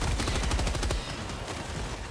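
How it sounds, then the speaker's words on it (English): Sentry gun in Helldivers 2 firing a dense, rapid automatic burst, loud and close for about a second before giving way to a steady roar of battle noise. "Sentry gun time."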